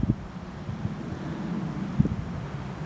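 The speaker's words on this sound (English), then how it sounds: "It's windy but not cold." Wind blows by the river Hoegne as a steady broadband rush with low buffeting against the microphone and a few brief gusty thumps, with no talk.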